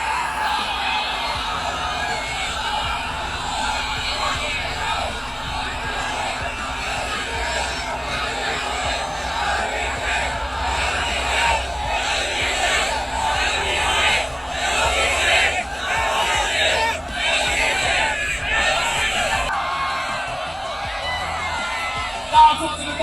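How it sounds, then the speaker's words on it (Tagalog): A large crowd of fans at a LeBron James event in China cheers, yells and chants without a break, a loud wash of voices that swells now and then. "damang-dama niya ang mga suporta at hiyawan ng kanyang mga fans"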